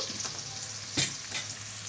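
Ingredients, including shahi jeera, fry in a pan until browned, with a soft steady sizzle and a couple of brief stirring scrapes, quiet and close.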